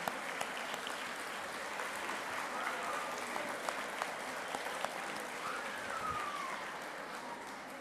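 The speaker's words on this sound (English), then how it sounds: "Let's clap and give him a real round of applause, ladies and gentlemen" Audience at a book launch for Roshnee 55 clapping in a sustained, fairly even round of applause that holds steady through the whole stretch, with faint crowd murmur underneath.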